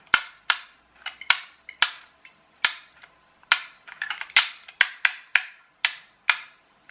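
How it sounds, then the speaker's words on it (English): Sharp plastic clicks from a ratchet in a wired-control toy car's gearbox, in irregular bursts, some single and some in quick clusters, close and fairly loud with silence between them. "But it's got some sort of clicker inside the gearbox anyway."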